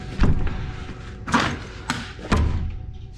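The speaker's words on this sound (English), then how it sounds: "After one of the explorers heard a door slam" Heavy thuds ring through an abandoned building, door-like slams striking four times at irregular intervals, each a sharp knock with a short echoing tail, with no voices over them.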